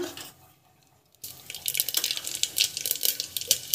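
Water poured into a pressure cooker during home cooking, a faint hush followed by a brief silence, then a lively splashing, bubbling pour with close, irregular spatters that continue to the end.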